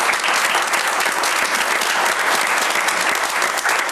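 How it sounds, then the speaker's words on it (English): Applause from the audience at a village board meeting, a loud, dense, continuous round of clapping filling the room for a few seconds. "But how about a round of applause for Carol?"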